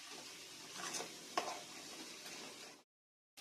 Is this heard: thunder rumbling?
no